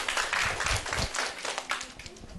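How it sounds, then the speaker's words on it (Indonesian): An audience at a talk on child growth and development gives brief applause to welcome a professor, a thin, uneven patter of clapping from a modest crowd, with no voices. "Kita berikan tepuk tangan."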